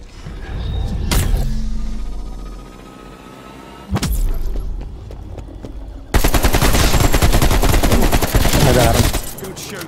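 Gunfire in Call of Duty Black Ops Cold War on the Firebase Z map: a loud shot early, a sharp blast near four seconds, then a dense, sustained automatic burst filling the final four seconds, with game ambience between.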